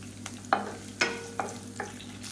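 Onions and chopped garlic are sautéed in a pan, a spatula giving four evenly spaced scraping strokes over a low sizzle.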